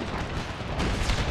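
Civil War era artillery and round shot firing in an Empire: Total War mod battle, a continuous rumbling roar of cannon booms with a heavier blast near the end.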